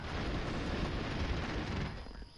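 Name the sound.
explosions in a PS4 video game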